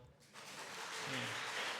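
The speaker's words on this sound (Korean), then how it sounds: "이 박수는 우리 티포시에게 격려의 박수가 될 것입니다." Applause of encouragement from a church congregation, broad steady clapping that swells and holds through the moment, filling the room with a dense wash.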